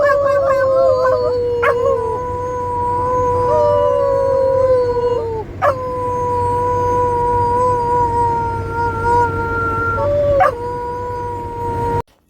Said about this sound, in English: So you watch how quickly he'll start howling.